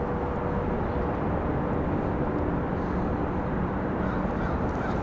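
A Lufthansa Boeing 787-9 airliner flying in to Raleigh Durham airport, a steady, broad jet roar that stays loud and unbroken throughout.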